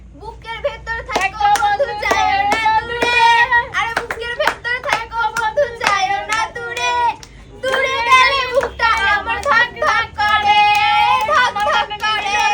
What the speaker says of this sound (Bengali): ও সুন্দর জোরে হাততালি দাও